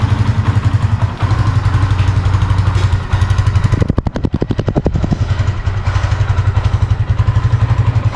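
A Kawasaki Barako 2 motorcycle engine runs steadily close by, a loud even idle with a brief rougher, thumping burst in the middle before settling back to its rhythmic putter.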